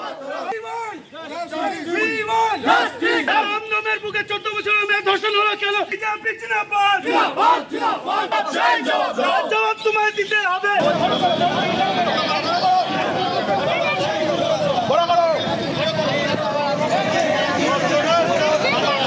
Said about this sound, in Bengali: যশোর রোডে টায়ার জ্বালিয়ে বিক্ষোভ বিজেপি, অবরোধ